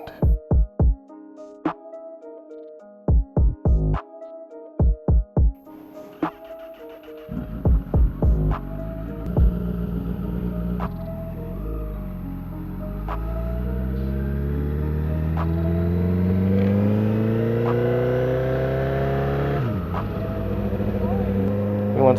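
A Honda CBR 1000 motorcycle engine while riding in the country, beginning with a few sharp clicks and starts before settling into a loud, steady hum that rises and shifts in pitch as the bike accelerates, with a voice talking over the early part.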